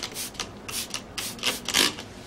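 Black indelible marker is scrubbed from a carpet in short vigorous strokes, about five or six close, loud rasping rubs in a quick uneven rhythm.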